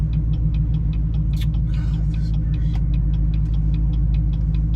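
A car engine hums at a steady low drone while driving along a back road, with a regular faint ticking over the top and a brief rustle partway through, close and continuous, with no voices.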